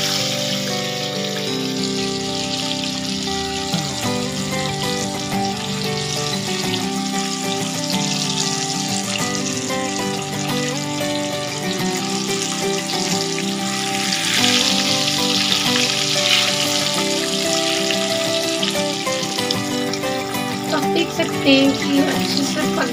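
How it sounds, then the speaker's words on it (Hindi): Chicken pieces deep fry in oil on low heat for KFC-style chicken, giving a steady, dense sizzle and bubbling that runs continuously and fairly loud throughout, with no pauses. "इसे धीमी आंच पर ही फ्राई करेंगे।"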